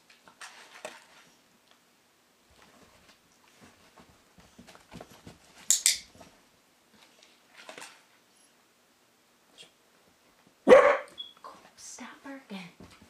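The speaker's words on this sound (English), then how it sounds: "Stop barking." A dog being trained to perch gives a couple of sharp, close barks, one around the middle and a louder one later, separated by quiet stretches with scattered small movement sounds and a person speaking.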